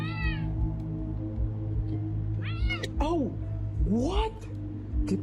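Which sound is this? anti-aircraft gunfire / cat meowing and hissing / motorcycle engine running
cat meowing and hissing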